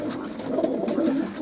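A flock of pigeons coos softly and continuously, with mixed tumbler and homer-type pigeons in a loft, forming a steady murmuring bed of low cooing without pauses.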